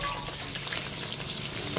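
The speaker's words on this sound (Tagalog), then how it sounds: "Di-fry naman yan." Frog meat (palaka) fries in a pan with a continuous bright crackling sizzle and occasional stirring scrapes, close and fairly loud, with no talking.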